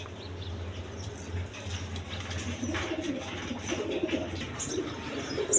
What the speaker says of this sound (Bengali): দর্শকবৃন্দ এইখানে এক পেয়ার রেড কালার গররা কবুতর আছে